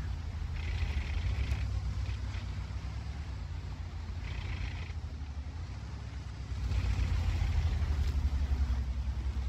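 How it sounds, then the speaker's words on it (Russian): Tank engine in an online tank battle game, a low steady rumbling drone with a brief swell toward the end, fairly quiet and heard alone. "Звучание приятное такого у двигателя."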